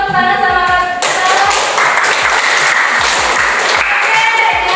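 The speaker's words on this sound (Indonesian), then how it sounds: "Beri tepuk tangan sama kaki kita." A classroom of students claps hands together in a loud, dense burst of applause, with a sharper rhythmic tapping running beneath it and some voices mixed in.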